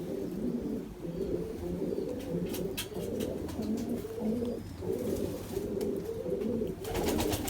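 Pigeons of an introduced breed coo steadily in a rooftop loft, soft overlapping throaty rolls close by, with faint chirps and distant background noise behind them.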